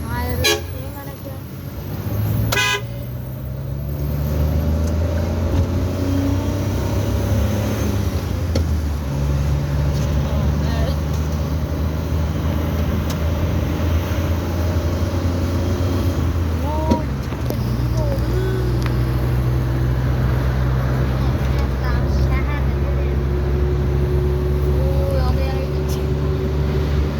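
Traffic jam on a road with a horn toot near the start, then steady engine and road rumble from cars and buses throughout, with a voice speaking now and then over the noise.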